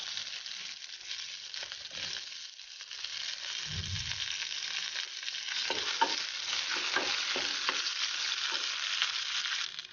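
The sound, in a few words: mustard seeds and curry leaves sizzling in hot oil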